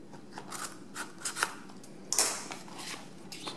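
Scissors cut through the packaging of a BodyGuardz full-body and screen protector for an HTC EVO 4G phone, making a series of close, crisp snips and rustles spread irregularly over a few seconds, with one sharper cut in the middle.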